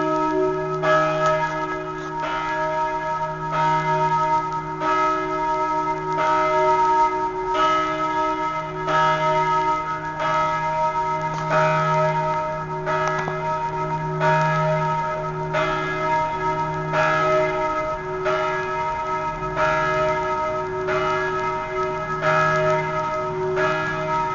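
Church bells ring steadily and loudly, peal after peal with no pause, rich overlapping tones filling the air with no talking.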